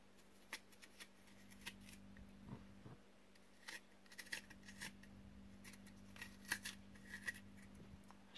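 A chayote is cut up with a knife, giving a close, uneven run of small crisp clicks and cutting crunches, faint and quiet in a still kitchen.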